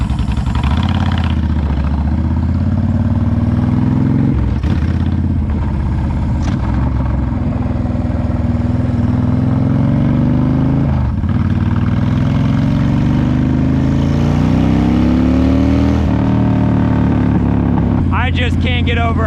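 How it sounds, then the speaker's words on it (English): Honda Sabre VT1300CS motorcycle with a Cobra exhaust, its V-twin engine idling and revving in a steady low rumble that swells in several throttle blips, loud and close, with someone talking over it. "I just can't get over how good this exhaust sounds."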